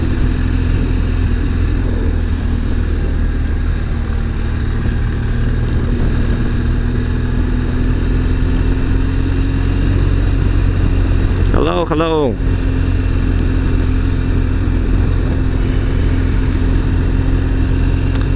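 A BMW 1200GS motorcycle runs steadily in fourth gear, its engine a continuous loud drone with wind rush throughout, and a brief passing sweep near the middle; a rider speaks briefly over it.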